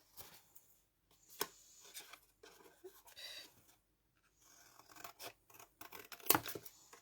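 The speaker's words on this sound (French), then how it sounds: "On coupe aussi cette petite languette là. Je vais le faire tout de suite." Scissors snip a small paper tab in a few quick, close cuts, with short pauses and soft rustling between the crisp snips.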